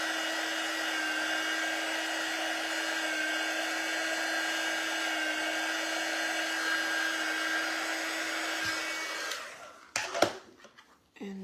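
A handheld dryer blows steadily on fabric paint on a wine bag with a loud, close, continuous whirring hum for about nine seconds, then switches off, followed by brief handling clatter.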